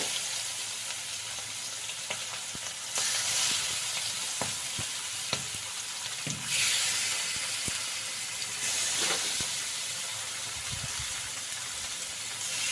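Marinated aar fish pieces are set one by one into hot oil, giving a loud, steady sizzle that swells into bright hissing bursts as each new piece hits the pan. No one speaks.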